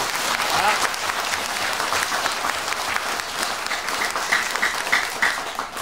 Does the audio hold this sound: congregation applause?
yes